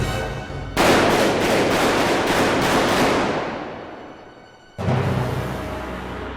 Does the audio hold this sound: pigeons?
no